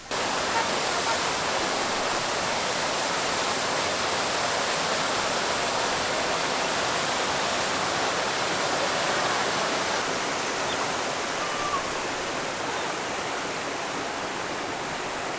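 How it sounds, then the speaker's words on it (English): A man-made waterfall, about 25 to 30 feet high, at the base of a tea plantation in the Cameron Highlands, Malaysia, roars steadily and loudly, a dense, constant rush of falling water. "They also have a man-made waterfalls located at the base of the tea plantation."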